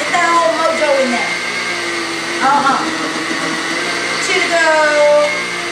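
A kitchen blender whirs loudly throughout, blending chunks during home cooking, with a voice talking over the steady motor noise.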